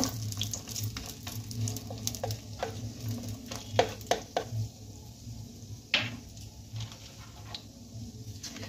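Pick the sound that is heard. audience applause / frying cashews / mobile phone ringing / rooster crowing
frying cashews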